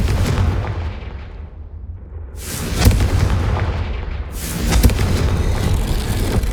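A Confringo fire spell explodes in Hogwarts Legacy, bursting with two loud, booming blasts a couple of seconds apart over a rumbling game background.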